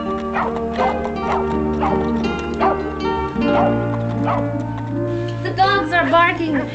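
Dogs barking repeatedly nearby in loud, rhythmic yaps and yips, one bark rising into a high whine, over a steady tonal hum while someone talks.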